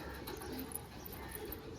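Pigeons just released from the hand coo softly and shuffle about, a low steady murmur of bird sounds close by with no talking.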